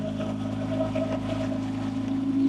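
A boat engine drones steadily with a low, even hum and faint harmonic whine, constant throughout without pauses.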